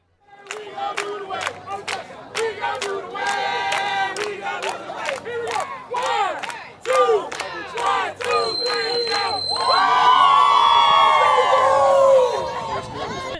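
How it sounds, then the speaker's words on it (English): Fans at a women's football game yell and whoop in a string of sharp shouts, then swell into a sustained, loud crowd cheer with high voices rising over it. "they have a loyal fan base who enjoys cheering them on"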